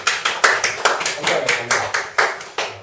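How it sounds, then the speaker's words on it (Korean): Rhythmic group clapping at the close of a Korean lecture, about a dozen even claps in quick succession from a small room of participants, loud and near with no one speaking over it. "박수."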